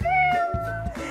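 A cute kitten meowing, one drawn-out high mew close to the listener, followed by a couple of shorter softer calls.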